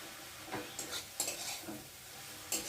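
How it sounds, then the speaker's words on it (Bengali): Water spinach being fried with shrimp is turned in a pan, quiet sizzling under several soft scraping strokes of a utensil at irregular intervals, close but faint. "নাড়তে নাড়তেই শাকটা ভিজে গেছে"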